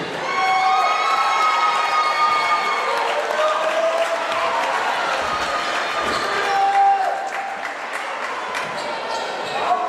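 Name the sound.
crowd cheering and applauding for youth basketball team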